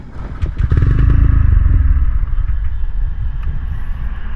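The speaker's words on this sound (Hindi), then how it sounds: "तो आपने देखा अभी ये बाइक स्टार्ट नहीं हो रहा है" A TVS Ronin motorcycle that is out of petrol fails to start. The engine turns over in a loud, rough burst that fades without catching, followed by a low clattering rumble.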